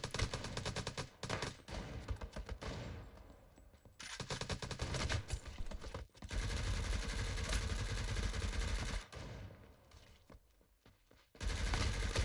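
Automatic gunfire rattles in an online shooter video game (Core Games), with repeated rapid bursts separated by brief pauses. It sounds loud and close, and no one talks over it.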